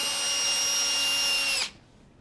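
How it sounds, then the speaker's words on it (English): Power drill unscrewing the screws that hold a bifold closet door track, a loud steady whine running close for about a second and a half before it stops abruptly. "we can unscrew the screws that hold the track into place on one side"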